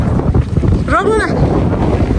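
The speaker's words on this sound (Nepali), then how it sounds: "चिसो हावा आयो के।" Cold seaside wind at a lighthouse park in West Vancouver, rocky shore nearby, roaring loudly against the microphone in steady gusts, with a short voice sliding up and down in the middle.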